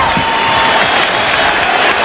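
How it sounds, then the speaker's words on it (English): Basketball arena crowd applauding the Knicks late in a 1995 home game against the Suns, a continuous wash of clapping and cheers with a commentator's voice faintly beneath. "The Knicks hearing the applause."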